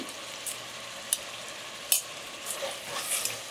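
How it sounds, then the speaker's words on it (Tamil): Tomatoes with ginger garlic paste fry in a pan with a steady, close hiss and crackle, broken by a few sharp spatula scrapes and taps, with no voices over it. "தக்காளி நல்லா வதங்கிடுச்சு பாருங்கள்"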